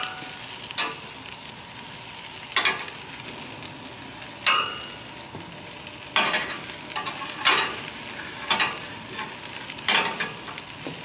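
Vegetables, including asparagus and garlic, sizzle on a hot grill in a continuous crackling hiss, with periodic louder scraping bursts as they are moved about.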